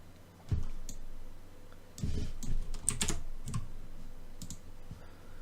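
A computer keyboard key is pressed with a few sharp clicks near at hand, scattered irregularly across a quiet room, with no one speaking.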